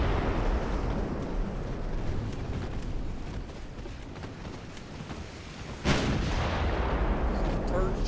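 Naval gunfire in the Ultimate Admiral Dreadnoughts battleship game, a constant heavy rumble of distant shelling with a sudden loud blast near the end, someone speaking over it.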